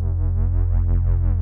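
A Source Audio C4 Synth pedal's square-wave bass tone with a deeper tremolo, a steady loud drone throbbing in even eighth-note pulses without any talking.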